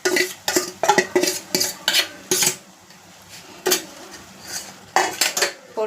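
A spoon clatters against a pot while boiled chana dal is stirred into a dish of banana stem and offal, with repeated close scraping clinks in quick bursts and brief pauses.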